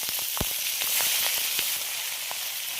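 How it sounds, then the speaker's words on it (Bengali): Bay leaf, cinnamon, cardamom and chili hit hot oil in a village kitchen, giving a steady loud sizzle with scattered sharp pops and crackles throughout, no voices. "তেল গরম হয়ে গেছে, আমি তেজপাতাটা দিয়ে দিচ্ছি, দারচিনি আর এলাচ।"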